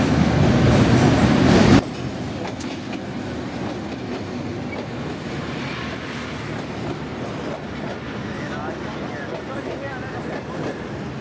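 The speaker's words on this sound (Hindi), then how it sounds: "ट्रेन आ चुकी है, ट्रेन का ही वेट था, तो ये आ गई है ट्रेन" A passenger train arrives at a station in Pakistan. A loud rushing burst gives way to a steady rolling rumble with faint clatter, amid background voices.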